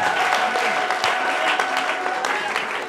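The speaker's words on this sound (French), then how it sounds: "Applaudis là où tu es." A church congregation applauding during a French-language sermon, steady dense clapping filling the whole stretch at moderate loudness, with a faint voice mixed in.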